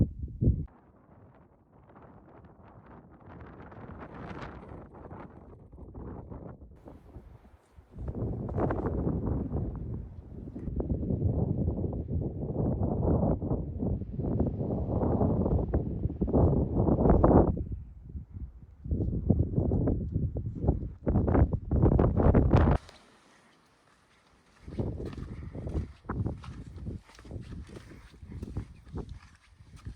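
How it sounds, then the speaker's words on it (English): Strong desert wind buffets the microphone in loud rumbling gusts near a rock formation, dropping briefly before roaring again. "So it's really windy today, so I apologize for the audio being not so good."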